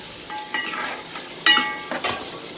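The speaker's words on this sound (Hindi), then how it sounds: "फ्राई सा करेंगे, गाजर को और शिमला मिर्च को" Carrots and bell peppers fry in a hot pan, giving a continuous sizzle broken by several sharp spatula scrapes and stirring knocks close up, with no voices.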